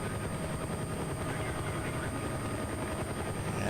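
Helicopter rotor and engine drone from Battlefield: Bad Company 2 gameplay, a dense, steady roar that stays constant and loud throughout with no talking over it.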